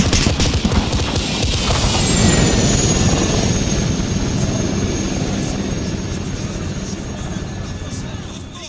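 Attack helicopter flying about 1.5 km to the east during combat with a T-72 tank, a loud, steady rotor and engine roar filling the whole stretch, with shouted voices over it.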